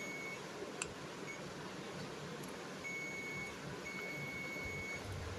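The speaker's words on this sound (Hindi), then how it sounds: "देखिए दोस्तों बीप की साउंड आ रही है" A multimeter's continuity beeper sounds while its probes test a fuse on a linear power supply PCB: a thin, steady electronic tone that comes in faint, sustained stretches broken by short gaps, against low background hiss.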